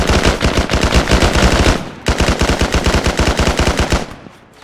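Automatic gunfire in the video game S.T.A.L.K.E.R., two loud, close bursts of rapid shots in steady rhythm, split by a brief pause near the middle, then fading out.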